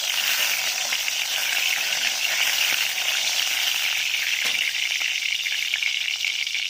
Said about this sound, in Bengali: এদিকে তেল গরম হচ্ছে আমার।